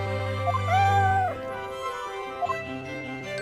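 Eve the cat meows in the video game Professor Layton vs. Phoenix Wright: Ace Attorney, a clear rising and falling meow near the start over background music, then softer short cat sounds later on.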